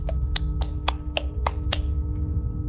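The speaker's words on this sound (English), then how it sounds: "I hope that was you clapping." About eight sharp hand claps sound in a loose, uneven rhythm over a steady low hum, close and fairly loud, with no one talking.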